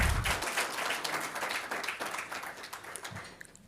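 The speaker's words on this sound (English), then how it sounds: "Please give a round of applause to these fantastic entrepreneurs" Audience applause for startup entrepreneurs at a demo day event, a burst of clapping that starts full and fades over a few seconds.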